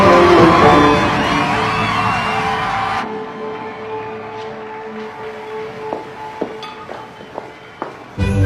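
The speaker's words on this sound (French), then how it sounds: "On applaudit Shaira" Audience applauding and cheering for a celebrated bachelor on a Christmas show set, a loud burst of clapping and whoops that cuts off sharply, leaving quieter scattered taps and thuds before another loud surge at the end.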